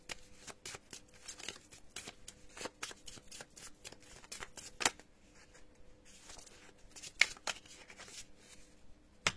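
Tarot cards being shuffled and cut by hand at close range, a quiet series of crisp riffling flicks and taps in irregular bursts, with a few sharper snaps of card on card.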